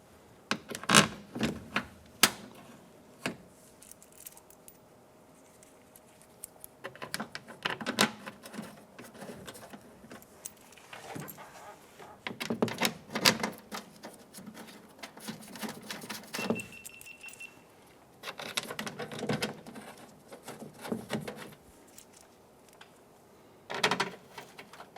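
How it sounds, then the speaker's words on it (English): Bolts are fitted and tightened on a 2008–2013 Nissan Rogue front door during an exterior handle replacement, heard as close, sparse clicks, taps and brief ratcheting bursts separated by quiet gaps. "Let's go ahead and install the perimeter bolts."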